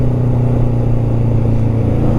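Engine of a roughly 45-year-old Suzuki GS550 motorcycle held at high revs around 6000 rpm, a steady loud drone with strong low harmonics, close and continuous with no talk.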